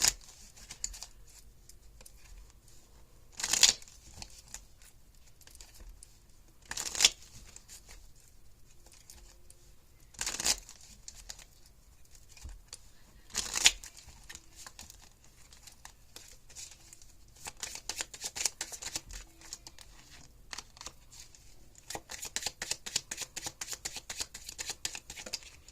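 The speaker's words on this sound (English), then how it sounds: "One more deck here. Get a couple of shuffles." Tarot cards are shuffled in several short, crisp riffling bursts spaced a few seconds apart, followed by longer stretches of softer, denser card shuffling and rustling toward the end, close and fairly quiet with no talking.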